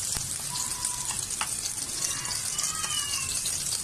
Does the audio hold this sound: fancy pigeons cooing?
no